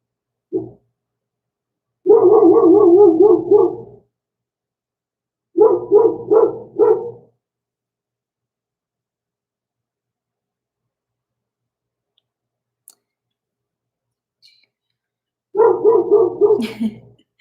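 A dog barks in three separate bursts of rapid, repeated barks, loud and close, with long silent gaps between them.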